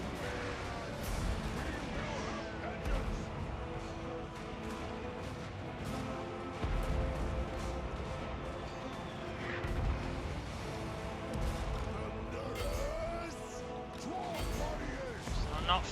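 Dwarf cannon artillery booms in a Total War Warhammer battle amid constant clashing, crashes and a busy combat din, with voices calling out over the fighting.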